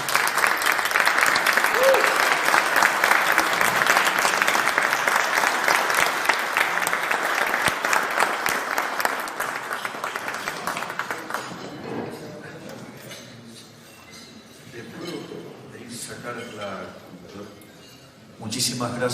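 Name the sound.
audience applause welcoming Javier Milei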